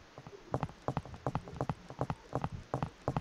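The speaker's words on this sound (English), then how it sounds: "You can hear the footstep sounds." AI player footsteps in a Unity PUBG-style mobile game sound as quick, sharp hoof-like clops in an uneven running rhythm, close and loud with no talking over them.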